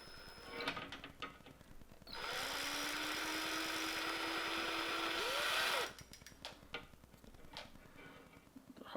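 A power drill spins a fishing reel to wind line onto it, a steady motor whine with a rising pitch running about four seconds, framed by quieter ticking and handling clicks.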